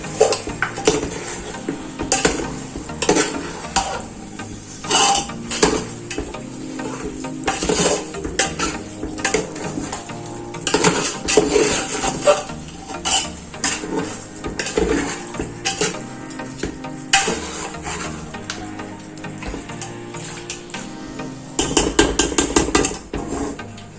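Spoon scraping and clinking around a cooking pot as spices and curry leaves are stirred into a mutton pulao base, steady rhythmic metallic scrapes and knocks, fairly close, no talk.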